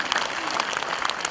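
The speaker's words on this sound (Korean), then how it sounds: "큰 박수 부탁드립니다." A brief burst of dense clapping rises from an audience at a Daegu community meeting on relocating the military and civilian airport, steady and moderately loud for just over a second.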